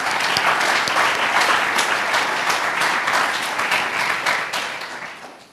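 An audience breaks into loud, sustained applause at an evening startup pitch event, with dense clapping that fills the room and then tapers off toward the end.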